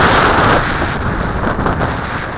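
Strong wind of about 20 miles per hour buffets the microphone outdoors, a loud, continuous roaring rumble with no talking.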